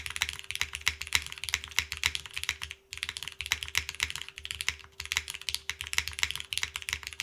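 Fast, steady typing on a Toro60 keyboard fitted with regular Nixie switches: crisp, close clicks in a continuous stream with one short pause partway through, over a faint constant hum.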